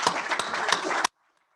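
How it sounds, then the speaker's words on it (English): A round of applause from a packed room at a Rotary Club of York, PA weekly meeting, dense clapping lasting about a second before cutting off abruptly into near silence. "Give yourselves a round of applause."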